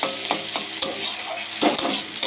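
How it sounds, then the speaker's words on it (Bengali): Close-up sizzle of an egg frying in a pan, broken by repeated clinks and scrapes of a utensil against the pan at an uneven rhythm. "ডিমটা ভেজে নিচ্ছি, ভেজে তুলে নেবো।"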